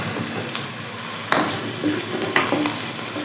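Sliced onions frying together with whole spices in a pot for chicken yakhni pulao, a steady close sizzle with a few stirring scrapes and light clinks of a spoon against the metal.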